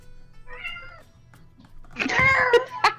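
A cat meows in a noisy market as a tabletop game sound effect: a faint mew first, then a louder drawn-out yowl that rises and falls, with soft murmuring behind.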